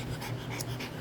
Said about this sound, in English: this is my dog Buddy,